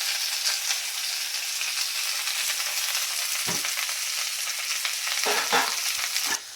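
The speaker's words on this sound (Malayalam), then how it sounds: "ഇനി നമുക്ക് നമ്മുടെ അരിഞ്ഞ് വെച്ചിരിക്കുന്ന ചുണ്ട് ആദ്യം ഇട്ട് കൊടുക്കാവേ" Chopped banana flower frying in a pan for a Kerala thoran, with a continuous bright sizzle and a few soft scrapes of stirring near the end.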